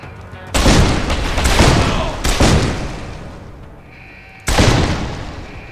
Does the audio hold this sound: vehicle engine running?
no